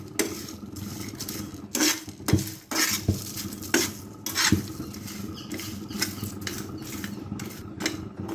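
Broken bay leaves dry-roasting on low flame in a pan, with repeated scraping and clattering of a spoon or spatula against metal in irregular bursts over a quiet kitchen hum.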